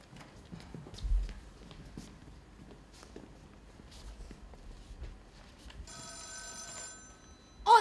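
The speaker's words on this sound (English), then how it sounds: "Answer the phone, Mr. Snow." Telephone bell rings in a hotel restaurant scene of a school stage play, a short burst of ringing arriving late after quiet footsteps and soft movement, followed by a sharp knock or thud.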